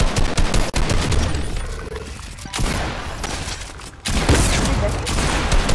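Shotgun blasts and bursts of rapid gunfire from a multiplayer shooter video game crackle loudly in dense volleys, easing briefly in the middle before heavy firing resumes.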